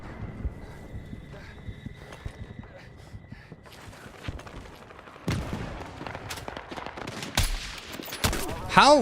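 Rapid submachine gun fire in the shooter game Battlefield 6, scattered bursts and single shots at varying distances that grow louder and denser toward the end, with other battle noise mixed in.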